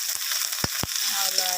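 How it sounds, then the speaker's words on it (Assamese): Onion, ginger, garlic and bay leaves frying in hot oil, a steady close sizzle broken by a couple of sharp clacks of a utensil against the pan. "পিঁয়াজখিনি দি দিছোঁ, আদা নহৰুখিনি দি দিছোঁ, তেজপাতখিনি দি দিছোঁ"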